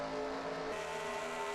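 Race cars in a Texas oval racing video game, with a steady, faint engine drone of lapped traffic running through a short stretch. No other sounds stand out.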